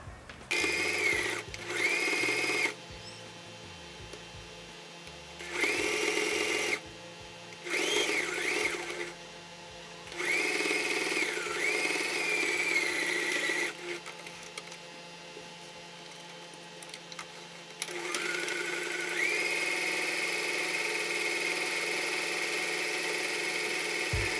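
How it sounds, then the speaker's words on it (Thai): A sewing machine stitching along the top and bottom edges of a bag strap, with loud, steady whirring bursts of varying length separated by short pauses, and a long continuous run at the end. "เราก็จะนำไปเย็บทั้งขอบบนแล้วก็ขอบล่างได้เลยค่ะ"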